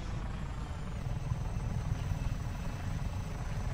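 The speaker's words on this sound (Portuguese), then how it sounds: "É um helicóptero de ouro." A golden helicopter in Just Cause 3 flies nearby, giving a continuous, fairly quiet rotor whir and thrum that holds steady throughout.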